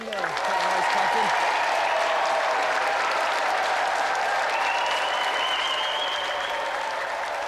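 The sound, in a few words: audience applause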